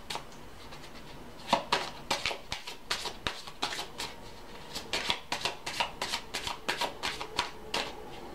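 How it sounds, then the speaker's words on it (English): A deck of message cards is shuffled by hand, close up. It makes a quick string of crisp riffling and flapping bursts that grow denser as the shuffle goes on, with no voices. "let's pull some message cards"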